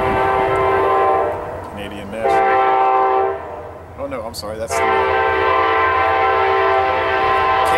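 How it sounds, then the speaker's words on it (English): A Kansas City Southern Railroad freight train rumbles past close by, its horn blaring in long sustained blasts that drop away briefly and then resume loudly, while people talk over the noise. "Kansas City Southern Railroad"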